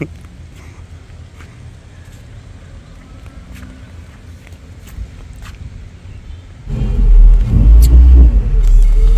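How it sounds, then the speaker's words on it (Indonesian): A 1999 car, about 20 years old, drives along a road, heard from inside as a steady low rumble that swells louder and heavier in the last few seconds as it speeds up. "Larinya mobil ini walaupun mobil tahun 99 ya, mobil ini sudah 20 tahun up"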